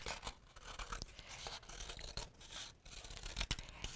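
Scissors cut through a paper plate for a craft animal, making a quick run of irregular snips and rustles close up, with no talking.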